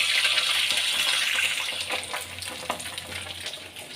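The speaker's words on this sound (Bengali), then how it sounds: "মাছের মাথাগুলো কিন্তু খুব সুন্দর করে ভেজে নিতে হবে, পুড়িয়ে ফেললে হবে না" Fish heads and tails sizzle steadily in hot oil for a Bengali tel jhal, a dense hissing spatter with occasional stir and splash sounds, close and continuous with no talking.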